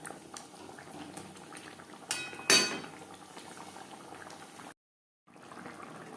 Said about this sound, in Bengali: গ্রেভির সাথে মাছ আরও 3-4 মিনিট রান্না করব